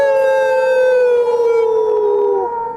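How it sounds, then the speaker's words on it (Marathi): A dog howls from a cremation ground as a sound effect: one long, loud, mournful wail whose pitch slowly sinks, held for nearly three seconds before it trails off, heard alone with no talk. "स्मशानातून कुत्रा रडायला चालू करते."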